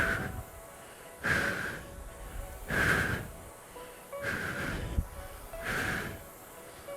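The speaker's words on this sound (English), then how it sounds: "Make sure that you're breathing." Heavy breathing during a rowing machine workout: five strong breaths spaced about every one to one and a half seconds, each a loud, breathy rush over a steady hum.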